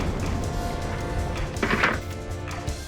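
Heavy banging on a door in an indoor courtroom-drama scene: a few dull wooden thuds cluster near the middle over a steady low background hum, with no clear speech.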